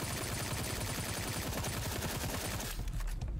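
Sustained rapid automatic gunfire from a gun in the video game Sker Ritual, a dense continuous barrage that stays loud throughout.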